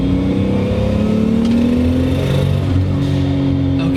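A 520 hp Toyota Supra Mk3 with a 1JZ engine pulls hard under acceleration, its loud close engine note rising steadily in pitch over a few seconds with a constant rumbling drone.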